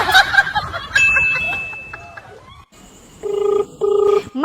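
A telephone rings in two short, loud bursts after people talk and a brief silent gap, with the rings standing out clearly near the end.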